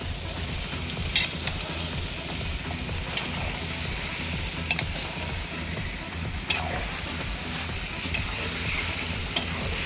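A large pot of meat cooking for a picnic meal for about twenty people, sizzling steadily while it is stirred continuously, with occasional light clinks, close and fairly quiet, with no speech.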